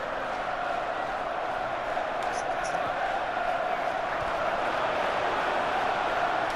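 A stadium crowd in the video game FIFA 15 gives a steady, distant roar of cheering and murmur, with a couple of faint whistles, while voices talk over it.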